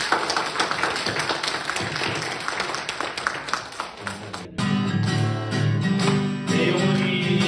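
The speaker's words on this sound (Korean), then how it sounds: "우리 예배 시작하기 전에 우리 하나님 앞에 영광의 박수부터 올려드립니다." A church congregation applauds at a Korean-American Sunday service in Arizona, dense clapping filling the room before music with a sustained tone comes in about halfway through.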